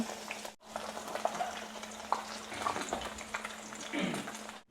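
Pork belly frying in a pan, a soft steady sizzle and crackle heard fairly close, with faint stirring sounds and a brief voice near the end.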